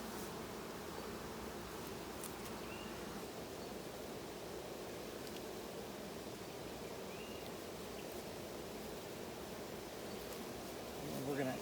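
Honey bees keep up a dense, even buzz while a hive is inspected and a box is added, a low, quiet hum that holds steady throughout with no pauses.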